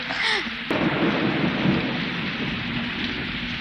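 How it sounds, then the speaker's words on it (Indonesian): Heavy night rain pours with a rumble of thunder, forming a dense, loud hiss that fills the whole stretch, with a rolling boom early on and no talk. "Malam pun makin larut, hujan turun makin deras."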